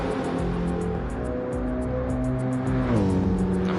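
Race car engine drone at Spa in Gran Turismo 7 runs as a continuous, close engine tone that shifts pitch near the end, with a repeating faint ticking high above.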